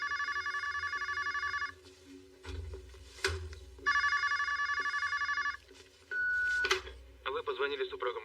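Several bursts of a telephone ringing in an action film, with electronic ring tones alternating with gaps of clicks and low rumble. A brief tone and the start of an answering machine greeting follow, with speech around the rings.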